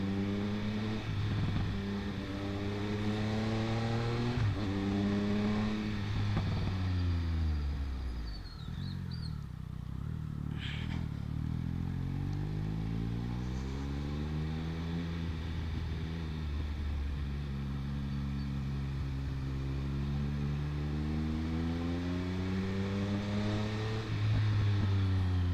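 Superbike engine running steadily while riding, its tone rising and falling repeatedly as the rider shifts and accelerates, loud and continuous throughout with no voices.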